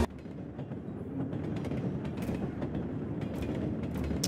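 Train interior ambience in the PuppetShow horror adventure game, a steady low rumble with faint creaks and rhythmic rail clatter, quiet and continuous.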